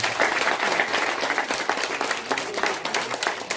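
A crowd at a community donation event for a school claps warmly, a dense, rippling burst of many hands with individual sharp claps standing out, sustained throughout.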